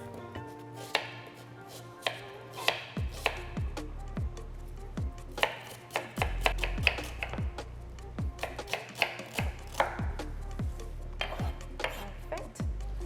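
A knife chops one small onion on a cutting board in a home kitchen, sharp close knocks coming in quick uneven bursts with short pauses between runs.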